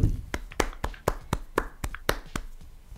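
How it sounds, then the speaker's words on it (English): Podcast hosts clap by hand, about ten sharp, distinct claps in a loose, uneven rhythm, close to the microphone and without voices. "Everyone insert applause."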